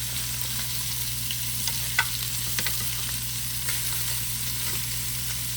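Steak frying in a pan, a steady even sizzle with a few faint clicks and taps near the middle, continuous and moderately loud with no talking.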